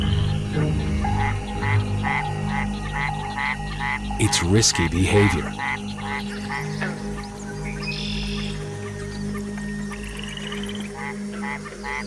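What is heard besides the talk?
Mexican white-lipped frog chirping calls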